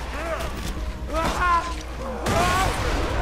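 Rocket launcher fire in the video game Borderlands 2 gives two sharp booming bursts about a second apart, mixed with warbling game sound effects and voices that run through the clip.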